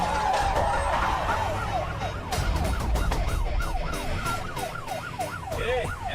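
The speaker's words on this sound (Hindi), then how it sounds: "ये तो पुलिस का सायरन है।" A wailing ambulance siren sweeps up and down repeatedly, fairly close, over steady traffic rumble with a faint voice briefly underneath.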